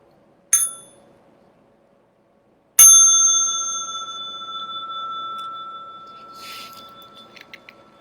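A small meditation bell is rung twice, a brief first strike and then a fuller ring whose clear tone sustains and slowly fades over several seconds in a quiet room.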